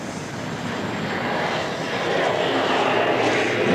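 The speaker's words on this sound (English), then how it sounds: "That's about the best takeoff he's done." A military fighter jet accelerates down the runway on takeoff, its engine a loud, steady roar that swells slightly as it goes.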